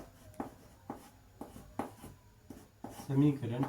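Pen strokes on paper while an equation is written out by hand, a run of short scratchy strokes in an uneven rhythm, close and moderately loud, with a voice speaking near the end.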